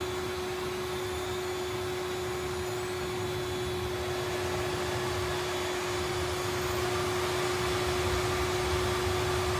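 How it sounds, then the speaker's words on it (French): A vacuum cleaner runs steadily and loudly close by, a constant whooshing roar with a sustained motor whine. "on entend un aspirateur là"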